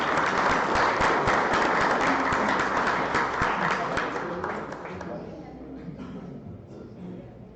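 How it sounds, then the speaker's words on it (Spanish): Loud applause from attendees at the closing of a silvopastoral systems seminar, dense clapping for about four seconds that fades into scattered claps and quiet murmuring. "Un aplauso a todos"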